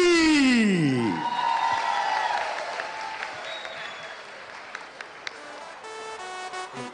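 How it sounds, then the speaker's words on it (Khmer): A crowd applauds at a Kun Khmer international fight event. A loud, sustained wash of clapping follows a bellowing shout at the start, then thins out and becomes patchier toward the end. "សូមទស្សនិកជនផ្ដល់ការអបអរសាទរ"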